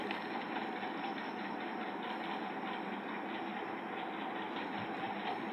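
Electric fan running indoors on a hot evening, giving a steady, even whooshing hum that stays constant throughout at a moderate level with no voices.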